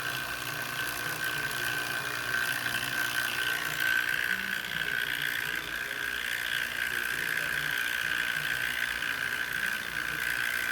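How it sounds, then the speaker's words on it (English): A vacuum pump runs steadily on a Charles Ross DPM 2 mixer drawing the vessel down toward the millitorr range, a constant close mechanical drone with a sharp whine and faint ticking throughout. "Either you leave the pump running"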